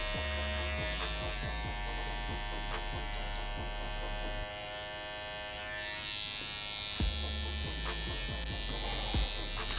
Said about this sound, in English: Holding down the ear and angling my trimmer